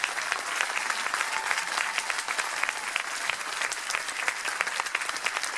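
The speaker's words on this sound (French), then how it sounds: "Allez, on peut l'applaudir encore" Lively audience clapping rings out for a young judo student at a dojo gala, a dense crackle of many hands held at steady strength throughout.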